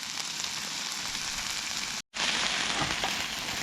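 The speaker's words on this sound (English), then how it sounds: "Onion sizzle" Steady, crackling sizzle of onions frying in a hot pan, dense and continuous, broken by a brief moment of silence midway.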